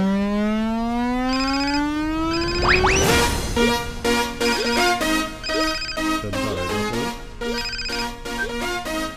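A phone rings during an outgoing call, a loud electronic ringtone with rising sweeps followed by repeated bursts of bright, steady tones in a regular on-off pattern, with no voices.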